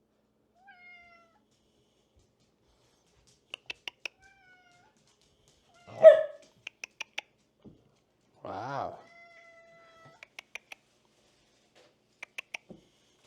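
A pet cat meows several times in a quiet indoor room, short close calls spaced apart, with a person speaking in between and light clicking taps of plastic pieces.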